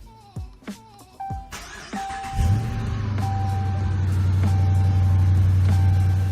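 A car engine starting: a few sharp clicks, then a brief crank that catches into a steady, close idle.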